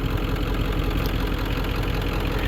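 A new chainsaw with its chain fitted backwards from the factory runs with the chain spinning, a loud, close, steady engine buzz with no voices.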